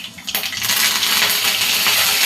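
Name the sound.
adding cumin and mustard seeds to hot pan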